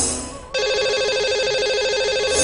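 A telephone rings out on a radio show's call to a lucky caller. A loud, steady electronic warble starts suddenly after a brief quiet moment and holds continuously to the end.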